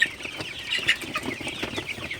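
Sonali super hybrid chickens cluck softly in a shed on a hot night, with several birds making short, scattered calls close by.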